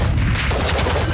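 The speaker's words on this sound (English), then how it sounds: "Shooting at me." Gunfire aimed at the player in the Call of Duty DMZ video game, a dense burst of shots that starts partway through and carries on loud and close to the end, with no talking.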